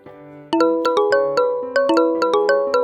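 A phone rings in a kitchen with a bright, chiming melodic ringtone, a quick series of loud ringing notes that starts suddenly and repeats in a lively pattern.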